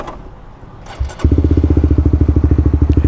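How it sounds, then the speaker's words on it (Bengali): A modified Honda CBR150R with a slip-on exhaust starts off after a quiet moment, its engine settling into a loud, steady, throbbing pulse as the motorcycle pulls away close by. "তো এখন এটা একটু রাইড করে আসি, দেখি স্টক সিবিআর থেকে ডিফারেন্স কী লাগে"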